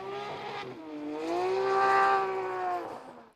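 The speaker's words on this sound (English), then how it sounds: "Very nice, consistent engine noises here." A Spec-D race car engine on a wet track revs up and holds a steady, harmonic-rich drone, rising in pitch mid-way and easing off, close and clear with no talk.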